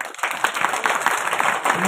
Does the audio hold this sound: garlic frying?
no